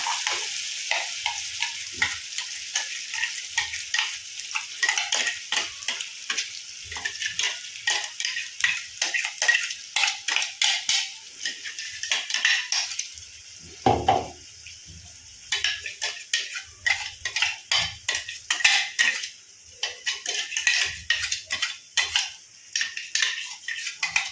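Black masala roasts in a pan on a low flame, sizzling steadily while a spoon stirs and scrapes it in rapid repeated strokes, with a short pause midway.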